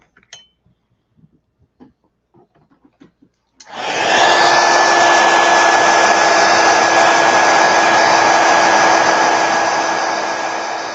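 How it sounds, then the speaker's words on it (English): A heat gun blows steadily across a watercolor painting of a creepy carved pumpkin, a loud continuous rushing roar with a faint whine that starts abruptly after a few seconds of quiet handling clicks and runs to the end. "I'm going to hit it with a heat gun."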